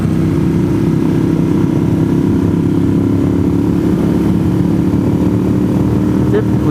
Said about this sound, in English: Motorcycles heading out of Robbinsville this morning.